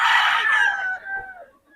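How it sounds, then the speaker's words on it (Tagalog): Chickens at a poultry market in Bocaue, a rooster giving a loud close crow that trails off into fainter clucks. "Gusto niya mga mamurahing manok dito kay Boss Ray"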